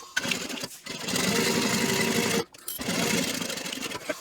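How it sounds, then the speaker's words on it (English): A home sewing machine stitches across the bottom seam of a fold-and-zip backpack with a 3/8 inch allowance, running in a loud, steady whir that pauses briefly twice before resuming. "now I'm going to sew across the bottom using a 3/8 inch seam allowance"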